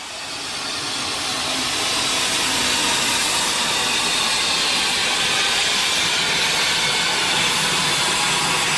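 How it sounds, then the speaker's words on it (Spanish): Renfe 242-0221 steam tank locomotive, a mineral-train engine, lets off a loud continuous hiss of steam that swells in the first second and then holds steady and broad throughout. "Esta bien proporcionada locomotora tanque es la Renfe 242-0221"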